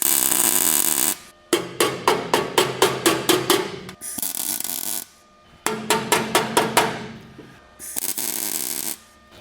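A welded metal firewall panel on a 1937 Lincoln Zephyr being hammered into shape: two quick runs of about eight ringing blows each, close and loud, separated by bursts of steady harsh shop noise.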